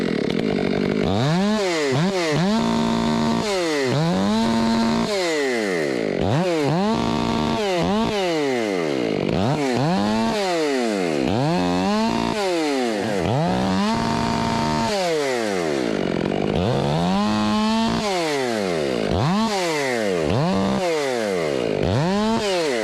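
Chainsaw running loud and close for the whole stretch, its engine revving up and dropping back again and again in a steady cycle of bursts, with no talk over it.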